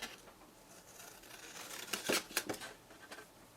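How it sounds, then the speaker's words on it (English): Scissors snipping through card stock while trimming a balm jar gift box template, a few close, crisp cutting snips clustered in the middle, quiet otherwise. "So grab a pair of scissors."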